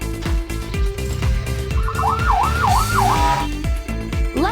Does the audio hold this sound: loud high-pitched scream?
no